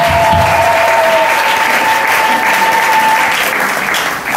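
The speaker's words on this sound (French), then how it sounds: "Applaudissons fort, Seigneur." Applause from a church congregation during a sermon, loud and sustained throughout, with a steady clapping wash and a faint tonal hum running beneath it.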